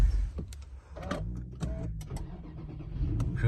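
A Nissan Fuga with a 4.5 litre V8 starts from its push-button ignition, with close clicks and mechanical whirs, then the engine catching and settling into a low steady idle rumble.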